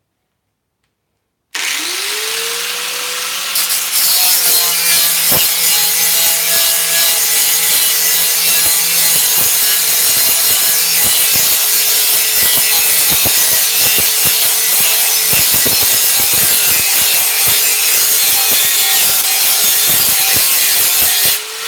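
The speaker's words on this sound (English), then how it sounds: "I'm going to grind some more." Angle grinder working metal in a metal fabrication workshop, a loud continuous abrasive roar that starts abruptly after a brief silence and runs steadily for about twenty seconds with scraping crackles, no talk.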